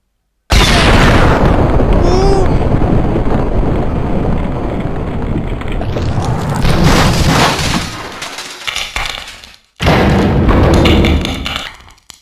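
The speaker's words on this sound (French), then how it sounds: "la grenade qui est partie pour rien" A grenade explodes in the video game Max Payne, a loud sudden blast that decays into a long rumbling tail and is followed by a second burst of noise.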